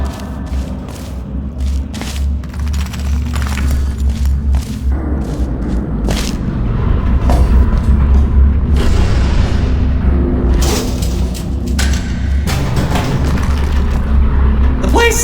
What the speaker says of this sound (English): It's exploding. Rocks are falling everywhere